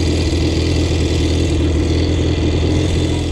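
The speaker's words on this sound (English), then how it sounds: "The engine looks, sounds and feels unbelievable." A motorbike engine revs hard and steadily, a loud, continuous close-up roar with a strong low rumble that holds without a break.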